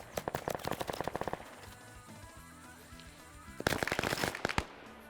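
Rapid automatic gunfire in a multiplayer Vietnam War combat video game, with two dense bursts of sharp cracks separated by a quieter lull of distant rumble and scattered shots, loud and close.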